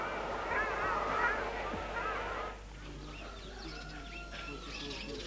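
A group of ruddy shelducks calls with honking, goose-like notes at Lake Eber in central Anatolia, Turkey, louder at first and then fainter and more scattered, under a narrator's voice.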